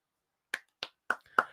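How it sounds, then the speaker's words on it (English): Four sharp hand claps ring out alone in a quiet room, each short and crisp, spaced roughly evenly with a slight speeding up. "I like to clap for that"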